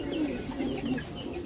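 Soft, low pigeon cooing, a steady murmuring coo that carries on throughout, fairly close, with no talking.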